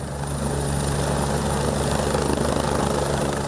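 An aeromedical rescue helicopter run by the SAMU and PRF in Pernambuco, heard loud and close with a steady rotor thrum and engine whine that continues without a break.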